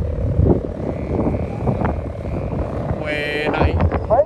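A big flying kite at a kite festival hums with a steady buzzing drone like a helicopter, heard under crowd noise and nearby voices.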